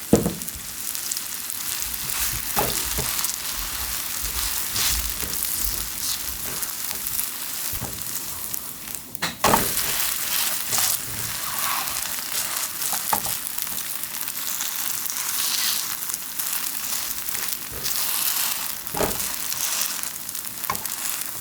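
Old pumpkin pancake batter sizzles and crackles steadily in hot oil in a pan, with occasional louder pops and scraping stirs throughout.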